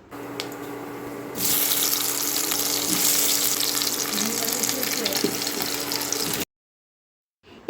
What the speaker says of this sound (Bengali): এবার এই আমগুলোকে দু তিন মিনিট ভালো করে ভেজে নিতে হবে